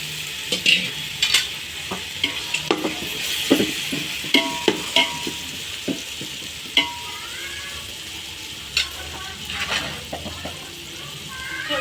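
A spoon scrapes and stirs as chicken goes into a pot of rice, oil, fried onions and tomato for hotel-style biryani. The stirring clinks come up close over a low sizzle.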